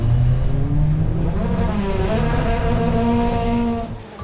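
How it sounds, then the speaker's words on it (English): BTCC touring cars on Goodyear tyres pull away together for a green flag lap, a loud, dense roar of many engines revving and surging continuously, with no voices over it. "the cars get away for the first of the 2 green flag laps"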